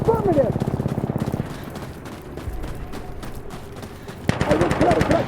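Rapid gunfire in the video game Insurgency: Sandstorm, with a sustained automatic burst, then scattered shots and another loud burst near the end. A voice is heard under the shooting.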